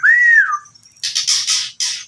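A jalak sungkop starling's loud, close calls: a rising and falling whistle, then a run of harsh, chattering squawks in quick bursts.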